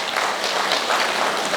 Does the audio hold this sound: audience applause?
yes